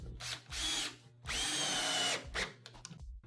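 Power drill driving screws straight into the edge of an AZEK composite deck board without pre-drilling, two long whirring bursts and a shorter one, close and loud with brief pauses between.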